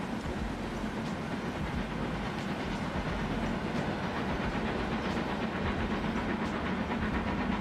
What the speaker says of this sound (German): Ah, da kommt schon der Gegenzug.